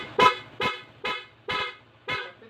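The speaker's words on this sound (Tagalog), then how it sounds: "Loud horn. Dual horn siya." A dual loud horn fitted to a Honda ADV 160 scooter, M1 Senlo and PIAA units, sounds five short, evenly spaced blasts, each loud and bright with a quick decay, close by and alone.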